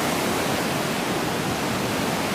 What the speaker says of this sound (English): So this is the place known as GOGO Waterfall.